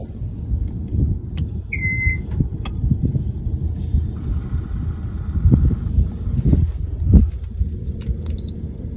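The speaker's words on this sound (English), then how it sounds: "warm up the engines, and then we're gonna be ready to go." Sailboat engines warm up at idle, a low, steady rumbling drone with faint wind noise and a few light knocks and clicks, heard close by.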